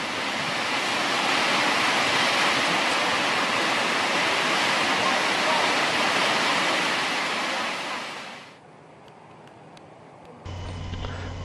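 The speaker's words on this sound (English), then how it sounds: "There is just so much water, lakes, rivers and waterfalls everywhere." Rushing water from rivers and waterfalls in Yellowstone makes a loud, steady roar that dips to a quieter wash near the end, followed by a brief low hum.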